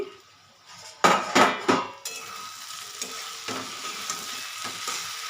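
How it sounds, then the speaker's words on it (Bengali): A metal lid clatters off a pot of shrimp curry with eggplant, potato and onion masala in a home kitchen, with a few sharp knocks up close, then a steady low sizzle of the cooking spices. "এখন ঢাকনাটা তুলে নিচ্ছি।"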